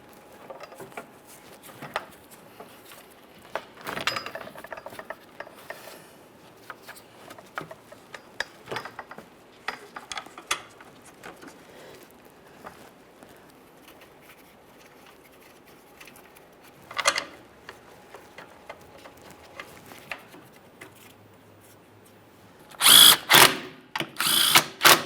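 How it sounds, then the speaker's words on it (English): Mounting bolts are run in and snugged on a 2013-2020 Ford Fusion 2.0L AC condenser and receiver drier assembly. Scattered ratchet clicks and tool clatter come first, then short loud bursts of a power drill near the end. "start in all 4 of the mounting bolts and then we'll snug them up"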